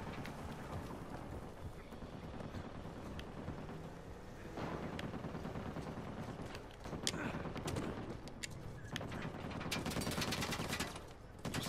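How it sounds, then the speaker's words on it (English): Hostile gunfire aimed at the player during a firefight in Uncharted 4 on Crushing difficulty, a dense, continuous stream of cracking shots layered over wind and ambient noise, with bursts intensifying toward the end. "Please stop shooting at me."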